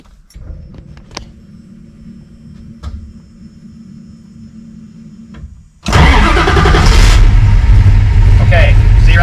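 A car engine cranks and catches about two-thirds of the way in, jumping from quiet clicks and handling noise to a loud, steady close-up idle.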